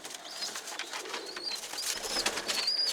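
A hungry pigeon chick calling in a series of thin, repeated high cheeping cries, close and fairly loud, with steady background noise and no talk.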